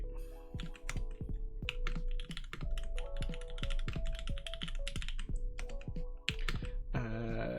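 Rapid clattering keystrokes on a mechanical keyboard fitted with GMK keycaps, a steady close-up run of sharp taps with brief pauses, ending in a short burst of different clicking.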